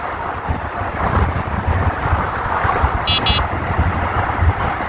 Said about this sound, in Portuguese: O vento tá forte, galera.